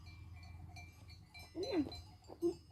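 A few short bleats from sheep, one wavering call followed by a briefer one, over a low background hum.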